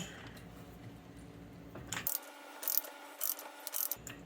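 An HFS TAR-100 ratcheting pipe threading tool clicks and scrapes as it starts cutting threads on a pipe. A few quiet ratchet clicks and metallic rubs come after a faint background hum.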